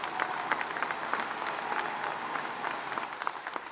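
Audience applause at a government scheme launch event, a steady wash of many hands clapping with no voices, moderately loud and sustained for the whole stretch.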